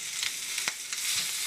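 Bacon fries in a pan with a dense, steady sizzle and small crackling pops, close and continuous with no talking.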